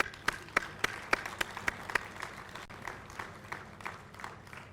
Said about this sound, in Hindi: तालियों की गूंज में